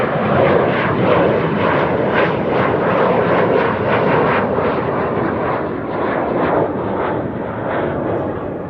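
A jet airliner takes off from the threshold of runway 24 at Amsterdam Schiphol Airport, a loud, steady engine roar that holds strong throughout and eases only slightly toward the end.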